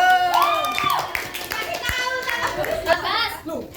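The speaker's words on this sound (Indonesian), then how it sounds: "Ya, boleh tepuk tangan nih." Schoolchildren clapping in a classroom during a teaching practice lesson, a burst of hand claps mixed with lively children's voices and chatter that carry on over and after the applause.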